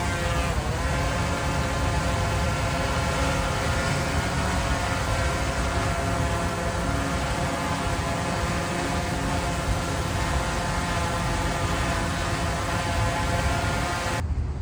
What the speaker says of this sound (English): now we're gonna get the drone all cranked up and check to make sure everything's working correctly